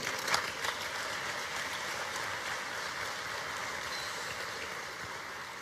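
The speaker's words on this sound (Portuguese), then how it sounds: "Você pode aplaudir o Senhor um pouquinho?" Steady applause from a church congregation, a dense wash of clapping that holds evenly throughout with a few sharper claps near the start.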